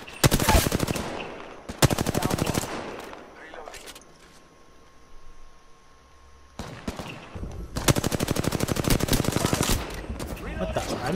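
Automatic gunfire from an Apex Legends match comes in loud rapid bursts, a long stream at the start and another near the end, with a quieter stretch between where someone talks.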